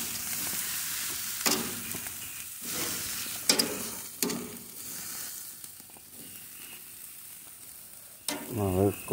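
Carne asada sizzles on the heat, a steady frying hiss broken by a few loud stirring or flipping scrapes, ending in a rougher burst of activity.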